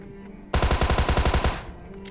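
A loud, rapid burst of automatic gunfire in the mobile battle royale game PUBG Mobile, about ten sharp shots in a tight rhythm lasting roughly a second, then quiet.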